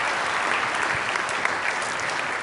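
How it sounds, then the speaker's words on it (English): Steady audience applause from a conference crowd at a remarketing industry talk, a dense even patter of many hands clapping throughout, loud and sustained with no voices on top. "Now, that's worth an applause, isn't it?"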